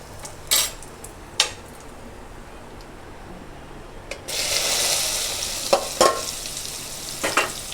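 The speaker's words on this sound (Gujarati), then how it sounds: "હવે તેલ મૂકી દીધું આમાં તેલમાં જરાક રાઈ જીરું" Mustard seeds and cumin hit hot oil in a pan and break into a steady, bright sizzle and crackle that holds for several seconds, with a few clinks of a utensil against the pan before and during, close by and without talk.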